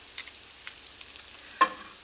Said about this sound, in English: I'm not going to make you sit here and watch these sizzle